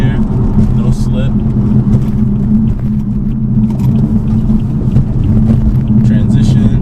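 A BMW F82 M4 on Nitto NT555 G2 tires cruises at highway speed on the road, with a loud, steady engine drone and tire roar filling the cabin throughout, and someone talking over it.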